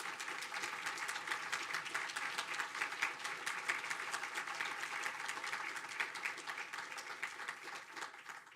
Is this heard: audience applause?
yes